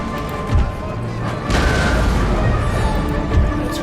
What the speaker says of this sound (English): Seems to work to shell them with this battery